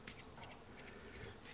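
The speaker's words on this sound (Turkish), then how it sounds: "Arılar falan yani uçup dururlar." Bees and other insects flying among pomegranate blossoms in an orchard in May, a steady, continuous buzzing drone that holds at an even, moderate level throughout with no voices.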